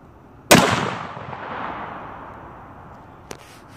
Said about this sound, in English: Okay, that was our second shot.